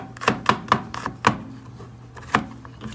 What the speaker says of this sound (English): But our garlic, always cut these up separate because I'm gonna put this in first. You know, cut this up real fine.